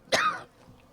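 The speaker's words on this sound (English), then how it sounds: "The cough sounds a lot worse than it actually is." A single sharp cough bursts out near and fairly loud, trailing off within half a second into quiet room tone with no talking.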